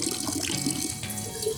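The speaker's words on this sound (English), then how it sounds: "we believe you can fill your water bottle here" Water runs from a public tap in Switzerland as it fills a bottle, a steady close hissing rush that holds an even level throughout, with no talking.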